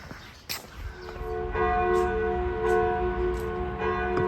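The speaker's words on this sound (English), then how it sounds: "Bells are a-chiming." Church bells chime near a semicircular tower beside old city walls in Transylvania, Romania, sustained ringing tones with repeated strikes layered over outdoor ambience.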